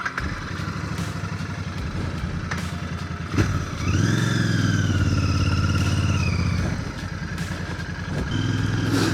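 A Royal Enfield Bear 650 motorcycle rides through an old World War II airfield, its engine note steady and close, rising as the throttle opens with a climbing tone, then dropping back and revving again. No talking.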